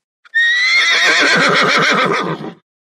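A horse whinnies loudly and shrilly as it rears, a single sustained neigh lasting about two seconds with a shaking, fluttering tail, standing alone with no other sound around it.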